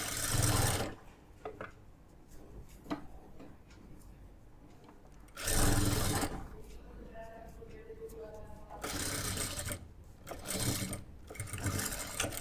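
A sewing machine stitching fabric: three loud whirring runs of dense stitching, each a second or more long, separated by quieter stretches with someone speaking between them.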